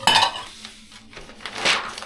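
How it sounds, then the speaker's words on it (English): Kitchen dishes and glasses clinking and clattering as they are packed into a moving box, a few close, sharp knocks and chinks in quick succession. "Try not to clink them all together."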